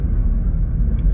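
Low, steady engine rumble heard from inside a car creeping along at slow speed, a dense droning hum with no voices over it.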